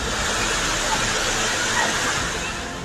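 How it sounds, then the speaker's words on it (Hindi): Floodwater rushes through streets in Rawalpindi, Pakistan, a steady, loud, broadband roar of torrential flow that stays constant and close throughout, easing slightly near the end. "हर तरफ तेज पानी की धारा है।"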